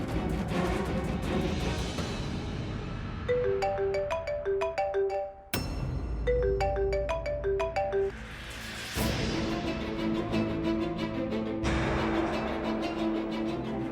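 A phone ringtone plays a repeating melodic chime pattern, loud and close, in two bursts separated by a short break, with a sustained tone underneath and no talk.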